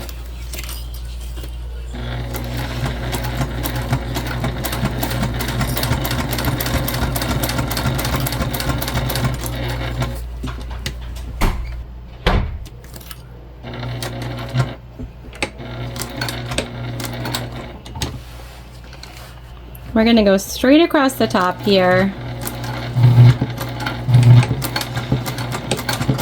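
A sewing machine stitches across the top strap connector of a travel sling bag in long steady whirring runs, stopping and restarting, with a person talking briefly and some handling clatter between passes.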